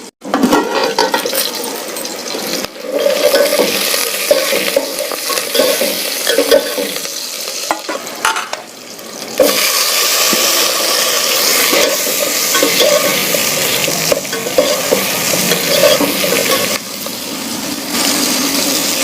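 Onions and green chillies frying in hot oil while being stirred, a dense continuous sizzle with bursts of scraping spatula strokes, loud and close throughout.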